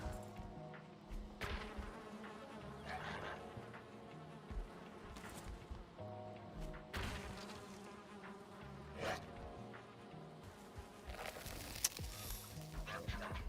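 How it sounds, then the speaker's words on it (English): Bees in the video game Valheim buzz around a beehive, a faint, continuous insect drone with small game sounds over it and no talking. "Yay, beehive."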